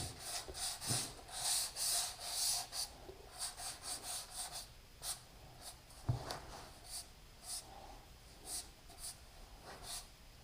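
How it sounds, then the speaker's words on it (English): A baseboard gets a very light sanding, giving soft, quiet, rhythmic scratchy strokes of abrasive rubbing over wood, close by and steady throughout. "And I want a very, very light sand."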